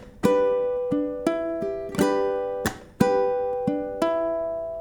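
Ukulele played in a repeating pattern of strums, percussive slaps and plucked notes, ringing brightly and close, with no voices.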